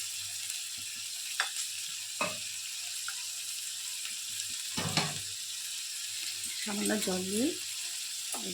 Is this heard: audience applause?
no